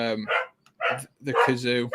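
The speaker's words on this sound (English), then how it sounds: "oh, we've got a dog barking." A dog barks several times in quick, loud yips close by, with short pauses between the bursts.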